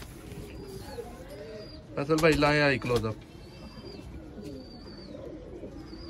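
A Sialkoti pigeon gives one loud, throaty coo up close, lasting about a second, with someone talking quietly before and after.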